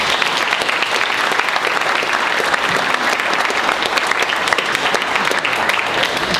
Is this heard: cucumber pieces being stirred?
no